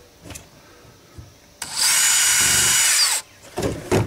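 A power drill whines steadily for about a second and a half as it bores into wood, with quieter handling noises and knocks before and after.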